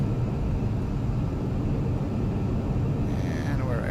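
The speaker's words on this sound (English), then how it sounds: "And we're going full burner" Jet engine at full afterburner on the takeoff roll down the runway in the DCS flight simulator, a loud steady broadband roar with a faint rising tone near the end.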